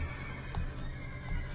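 Horses neigh in Minecraft with the Tale of Kingdoms mod: a loud whinny over steady clip-clop hooves and a constant background hum, no voices.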